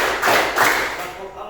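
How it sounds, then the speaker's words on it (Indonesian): Hands clap through a classroom counting game, a few soft thuds spaced irregularly under a teacher's voice, the first two claps loudest and the rest fading. "Tepuk satu, tepuk dua, tepuk tiga"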